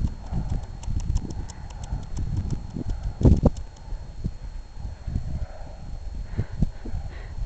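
Wild ponies walking with steady hoof clip-clops throughout, a slightly louder cluster of hoof knocks midway, close and alone without talk.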